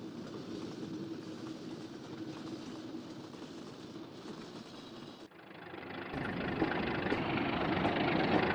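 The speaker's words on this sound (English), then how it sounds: "their dynamic braking further assisted the southbound loaded trains" A loaded southbound Pacific Great Eastern Railroad freight train runs steadily with a constant rumble and rail noise. It grows louder and brighter partway through, with no voices.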